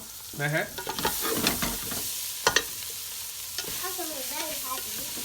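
Chickpeas and lentils with spices are stirred in a hot pan, a soft sizzle running underneath while a spoon scrapes and clacks against the pan in short, uneven strokes.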